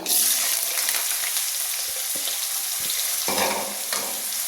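Cut potatoes frying in oil with cumin and dried red chillies, a close crackling sizzle broken by a few spatula stirs and scrapes, with no voices.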